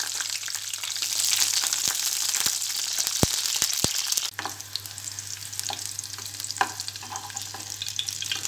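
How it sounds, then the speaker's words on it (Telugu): Green chillies frying in hot oil in a pan, a loud dense sizzle with a few sharp clicks and scrapes early on, settling into a softer, crackling fry after a sudden drop midway. "ఆయిల్ వేడిన తర్వాత పచ్చిమిరపకాయలు ఫ్రై చేసుకోవాలి"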